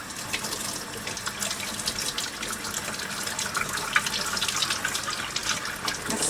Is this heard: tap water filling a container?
yes